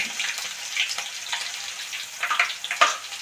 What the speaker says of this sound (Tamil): பூண்டையும் இந்த மாதிரி கரண்டிலேயே போட்டுக்கோங்க. போட்டு இந்த மாதிரி எண்ணெயில் வைங்க.